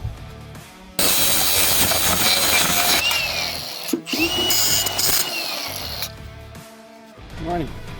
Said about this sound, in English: I'm just gonna hack them off with a grinder